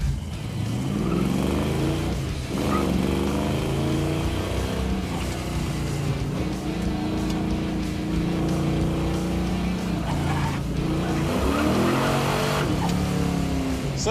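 Roadkill Garage's Disgustang Mustang on a timed run, its engine droning loudly and steadily throughout with rising and falling revs, close and continuous, with a voice faintly heard at times.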